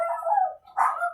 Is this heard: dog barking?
yes